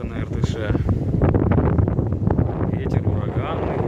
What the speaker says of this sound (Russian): Ветер ураганный, рыба не клюет.